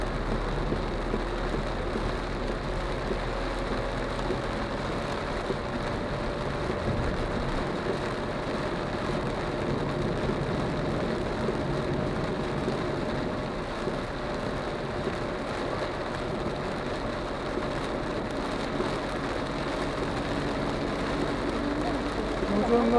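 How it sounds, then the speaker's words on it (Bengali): Extremely heavy rain drums on a car driving along a highway and expressway, a constant dense wash of water mixed with tyre and road rumble, steady throughout with no pauses. "প্রচন্ড বৃষ্টি হচ্ছে প্রচন্ড"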